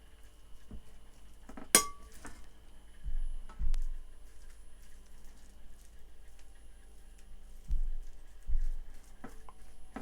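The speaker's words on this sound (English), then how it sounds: "So just use a spoon like that and just" A spoon spreads and smooths mashed potato topping over a dish, giving quiet scrapes and soft taps, with one sharp metallic clink near the start and scattered faint knocks throughout.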